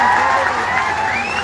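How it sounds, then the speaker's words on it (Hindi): A crowd at an Assam political rally breaks into loud, dense clapping mixed with cheering, a short wash of applause close and full, with a voice faintly audible beneath it. "एक बार जोरदार ताली हमारे हेमंत के लिए"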